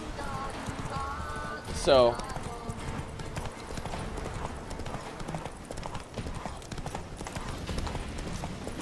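Horse hooves clip-clopping at a steady walking rhythm in The Witcher 3: Wild Hunt, continuous and moderately close under game background sound, with a brief horse whinny near the start and a short spoken word.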